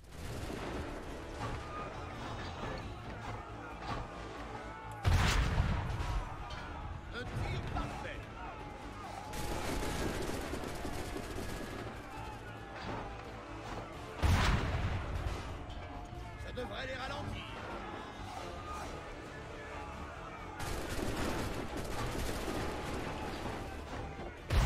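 Bursts of Assassin's Creed III gunfire and cannon blasts, loud and dense, with heavy impacts around the five and fourteen second marks over a continuous battle din.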